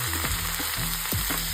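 Curry leaves and sliced onions fry hard in hot oil with dried red chillies, a loud, dense, continuous sizzle with scraping stirs from a spoon in the pan.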